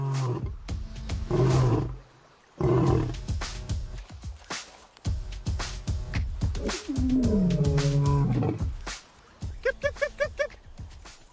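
A male lion roars repeatedly in long, loud, rumbling bursts with short pauses between them, close and unaccompanied by talk, with a brief chirping sound near the end.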